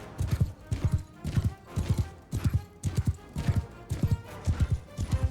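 A horse gallops in the medieval battle game Mount & Blade II: Bannerlord, its hooves pounding in a steady, loud, close rhythm of paired thuds that runs throughout over a faint background of battle noise.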